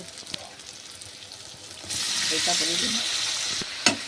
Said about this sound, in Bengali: এবার ভালো করে নেড়ে চেড়ে নেব যাতে আলু, পটল আর গাজরের সাথে ভালোভাবে মশলাটা মেখে যায়